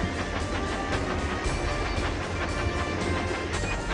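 A toy train runs along the track on Cannonball Curve in a Thomas train game, making a loud, continuous rattling rumble with faint rhythmic clatter throughout.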